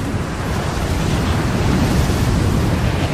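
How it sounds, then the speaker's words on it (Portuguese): Strong wind gusting on a mountainside in the Tomb Raider video game, a steady, loud, broadband roar filling the whole clip with no pauses. "Esse vento é absurdo!"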